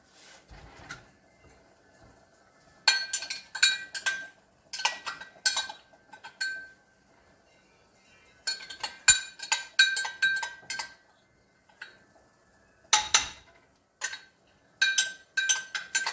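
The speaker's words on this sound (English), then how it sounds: "Let's start cutting up these potatoes." Knife cutting potatoes on a board beside a skillet, crisp chopping taps in quick bursty clusters separated by short pauses, close and fairly quiet.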